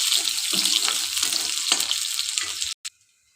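Onions dropped into hot oil crackle and sizzle loudly and close up for a few seconds, then the sound cuts off abruptly, followed by one brief knock and near silence.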